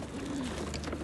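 Racing pigeons coo softly from their cages at a racing loft. A low, rolling call sounds near but faint beneath a steady background wash, with no voices.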